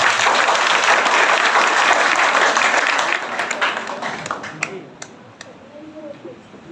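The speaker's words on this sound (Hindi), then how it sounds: "उनके लिए एक बार जोरदार तालियां बजाएं।" Loud applause from a student audience at a school function, a dense burst of clapping that fills the first three seconds and then thins into scattered claps before fading.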